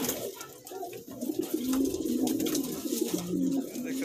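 A male pigeon coos repeatedly at close range, its low throaty calls rising and falling in a steady rhythm while a quiet voice talks softly in the background.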